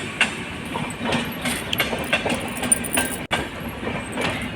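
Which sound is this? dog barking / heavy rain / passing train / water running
passing train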